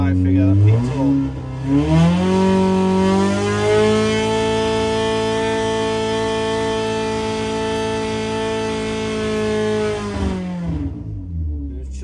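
Engine on a dynamometer in a 1200 dyno session, revving hard and climbing steadily in pitch, then holding a loud, sustained high-rpm drone toward peak torque before cutting off near the end.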